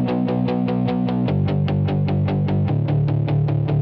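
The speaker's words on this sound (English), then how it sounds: "So you'll always have in time palm mutes. It's got some FM grit." Tight, chugging palm-muted synth guitar notes with gritty FM distortion, played in a steady even rhythm, shifting pitch partway through.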